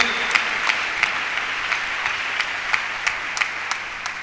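A church congregation applauding during a healing service, sustained clapping with several sharper, more distinct claps standing out at a loose, regular beat, moderately loud and close.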